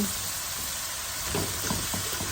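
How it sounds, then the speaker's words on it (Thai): Pork stir-fried in a hot pan for Thai basil pork over rice crackles with a loud, continuous sizzle, while a spatula scrapes and tosses in quick, uneven strokes close by. "ผัดให้มัน"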